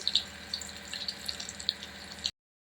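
Garlic frying in oil for a village-style khadappalu rassa sizzles softly and close, with a steady hiss and small scattered pops for a couple of seconds before stopping.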